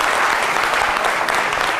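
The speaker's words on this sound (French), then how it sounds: "Est-ce qu'on peut les applaudir encore, les gars, franchement?" Studio audience applause on a French television talk show, a dense, loud burst of many hands clapping close by, sustained evenly with no voices standing out.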